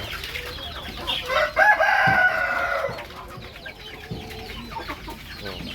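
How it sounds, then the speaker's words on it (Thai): A breeding rooster, a grey Thai village chicken, crows loudly in a long, strained call, followed by softer clucking and farmyard murmurs nearby. "พ่อไก่เป็นพ่อไก่พ่อพันธุ์นะตัวนี้พ่อพันธุ์"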